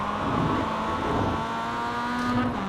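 A Mazda MX5 engine in the iRacing sim revs up steadily after a downshift to first gear at a Circuito de Navarra corner apex, with a loud, continuous rising drone and no voices.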